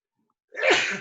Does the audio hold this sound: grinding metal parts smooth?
no